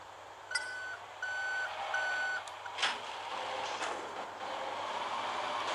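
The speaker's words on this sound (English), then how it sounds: "Now you have obtained the heavy fire truck." Heavy fire truck in the video game GTA Liberty City Stories, three reversing beeps over a low engine idle, followed by a couple of soft clunks, fairly quiet.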